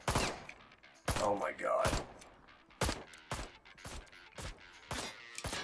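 Bursts of rapid video game gunfire from Ride To Hell: Retribution rattle out in several loud volleys with short gaps between them, while a voice exclaims over the shooting.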